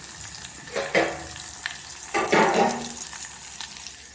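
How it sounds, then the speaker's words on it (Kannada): Half an onion and a little garlic sizzle in a pan, a steady moderate frying hiss with two louder bursts of stirring, close by and free of speech. "ಅರ್ಧ ಈರುಳ್ಳಿ ಹಾಕ್ತಾಯಿದ್ದೀನಿ ಇದೆಲ್ಲ ಫ್ರೈ ಆಗಲಿ ಸ್ವಲ್ಪ ಚೆನ್ನಾಗಿ ಇದು ಫ್ರೈ ಆಗಲಿ"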